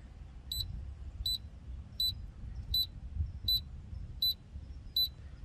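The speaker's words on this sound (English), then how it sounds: "And it's beeping." An outdoor 4G LTE modem on a rural rooftop gives short electronic beeps at a steady pace, about one every three-quarters of a second, over a low outdoor rumble.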